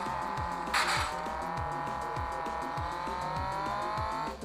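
Car engine and tires in the online racing video game Rally Fury, a continuous revving engine with repeated gear-shift pitch sweeps and a brief loud crash or skid burst, steady and close, without talk.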